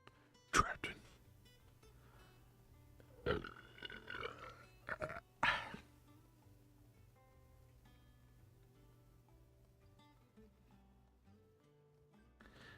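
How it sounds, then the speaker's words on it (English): A belch from a livestreamer: a few short guttural bursts around the middle, close and fairly loud, over a quiet game hum, with faint clicks and a voice nearby. "That was like the weirdest burp that I've had like on stream."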